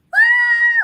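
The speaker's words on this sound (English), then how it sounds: "Next I uncharacteristically just scream like," A single sustained high-pitched scream from one person, loud and close, held steady for most of a second before trailing off sharply at the end.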